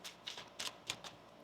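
A deck of tarot cards being shuffled by hand, giving four or five quick, crisp riffling bursts close by and fairly quiet, with no talking.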